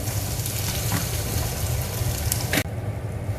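Shrimp frying in a hot pan with onions, a steady close sizzle and crackle running throughout, with a brief louder clatter near the end.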